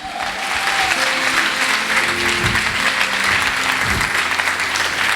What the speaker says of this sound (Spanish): ¿Cuántos le dan un aplauso fuerte a Jesús?